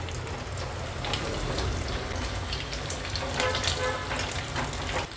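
Bombil (Bombay duck) bhaji frying in hot oil over a high flame, a steady dense sizzle with crackling pops throughout, close and continuous with no talk.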